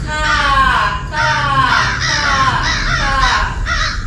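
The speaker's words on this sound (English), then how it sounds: "The crows flew past." Several crows caw loudly in a rapid series of harsh, overlapping calls, close by, continuing throughout.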